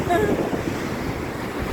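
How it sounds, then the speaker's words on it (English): Ocean surf crashes and washes onto Hollywood Beach in Miami, a steady roar of breaking waves mixed with wind buffeting the microphone, loud and continuous throughout. "Crashing waves."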